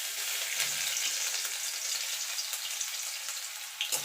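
Chopped garlic frying in oil with salted chilli and black cumin, a steady close sizzle with faint stirring noises throughout.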